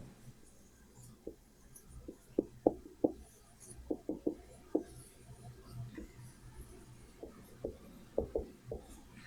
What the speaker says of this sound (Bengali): সো আমি লিখবো Anwar replied in the negative